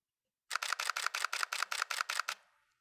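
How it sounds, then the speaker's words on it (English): A Nikon camera fires a rapid burst of about eleven shutter clicks in quick, even succession, crisp and close, followed by a brief mechanical tail and then silence. "So you can probably guess by the sound of the shutter speed there, I've decided to change things up."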